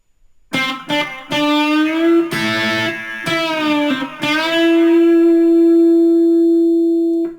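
An electric guitar plays a short lick of picked notes, bending strings upward, then holds a final bent note that rings out and sustains.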